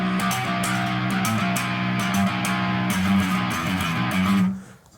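Distorted electric guitar playing a metal riff, chugging palm-muted low notes with punchy accented chords in a driving rhythm, loud and alone, cutting off abruptly near the end.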